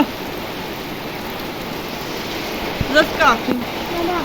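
Soft, gentle rain falls steadily as a quiet even hiss, with a person speaking briefly near the end over it.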